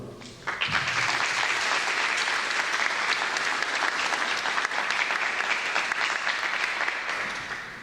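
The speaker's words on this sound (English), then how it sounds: "I want you to give them a round of applause" Audience at a summer high school graduation ceremony breaks into sustained, loud applause that begins abruptly and continues steadily with dense clapping throughout, tapering slightly at the end.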